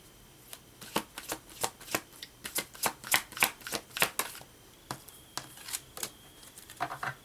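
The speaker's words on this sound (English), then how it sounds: "Let's pull a Halloween Oracle from Stacy DeMarco." Oracle cards for a Halloween reading being shuffled: a quick series of crisp riffling snaps and slaps at close range, irregular but steady for several seconds, with no talking.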